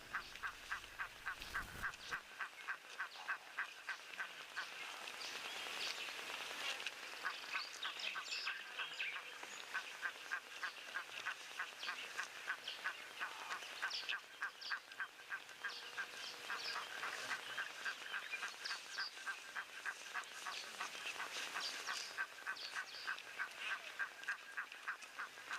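Young geese call continuously in quiet, rapid, high peeping chirps that keep a steady, busy rhythm throughout, heard from close by.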